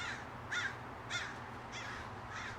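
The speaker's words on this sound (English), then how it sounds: "There's a lot of birds cawing over the top of us." Several crows caw in short bursts overhead, about four harsh calls spaced roughly half a second apart over a steady outdoor hum from a hot tub.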